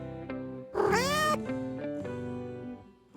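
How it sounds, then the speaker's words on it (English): A domestic cat meows close by: one loud, drawn-out wailing cry followed by several softer, shorter mews in quick succession. "My cat is amazing."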